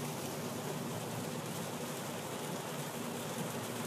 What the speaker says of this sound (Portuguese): com essa forte chuva que está cobrindo aqui a região